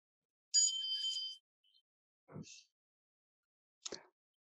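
A meditation bell rings in a quiet setting: a sustained bright chime near the start, then two short struck tones with low thuds, each separated by silence.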